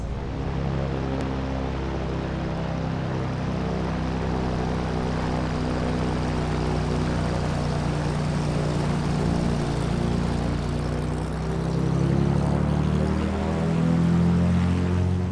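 The simulated engine of a PA-28R Turbo Arrow drones steadily while taxiing in Microsoft Flight Simulator, a loud, even propeller hum that swells slightly toward the end.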